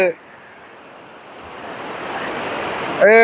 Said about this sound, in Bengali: আর একটা বড় ঢেউ আস্তে আস্তে আস্তে আস্তে চলে আসতেছে।